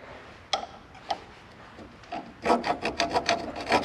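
Rust being scraped out of the splines and grooves of a boat trailer spindle, a few isolated scrapes early on, then a quick run of rhythmic rasping strokes near the end.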